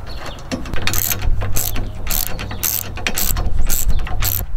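Rapid ratchet clicking from a deep socket wrench tightening bolts on truck bed kayak rack hardware, short bursts of sharp clicks repeating in a steady back-and-forth rhythm, close and loud.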